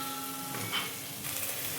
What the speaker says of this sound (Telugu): ఆనియన్స్ మంచిగా వేగాలి. ఈ యొక్క మెంతి కూర మంచిగా వేగనిద్దాం.